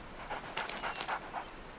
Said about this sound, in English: Crusoe's dog.